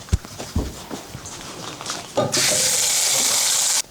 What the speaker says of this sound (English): I'm gonna wash my hands one more time.